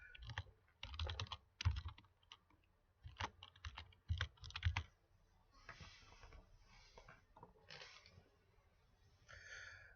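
Typing on a computer keyboard comes in quick clattering bursts of keystrokes separated by short pauses, close and fairly faint, with some soft breathy noise between.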